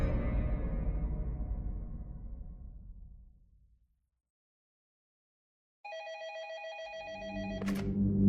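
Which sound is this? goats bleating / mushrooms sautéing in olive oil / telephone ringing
telephone ringing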